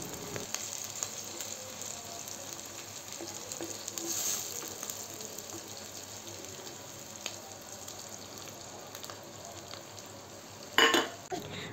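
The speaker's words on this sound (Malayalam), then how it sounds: "അങ്ങനെ നമ്മുടെ മീൻകറി അടുപ്പത്ത് തിളച്ചുകൊണ്ടിരിക്കുന്നുണ്ട് കേട്ടോ" A fish curry on a home stove gives off a soft, continuous bubbling simmer, fairly faint and steady, with a brief louder clatter near the end.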